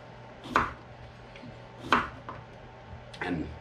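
A knife cutting English cucumbers into quarter-inch slices on a board: three separate crisp chopping strikes spaced over a few seconds, close and moderately soft.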